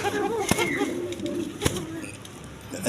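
A pair of Bashiraj pigeons coo softly and steadily at close range, with a couple of sharp clicks or wing bumps standing out and a faint hum of background noise.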